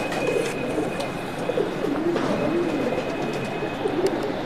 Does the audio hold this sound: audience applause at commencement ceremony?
no